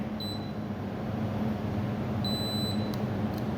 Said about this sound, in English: press and hold down P3 until we hear a long beep